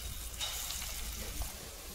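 Chickpea dal pakora batter with ginger, green chili and salt frying in hot oil, giving a faint, steady sizzling hiss with no pauses and no voices.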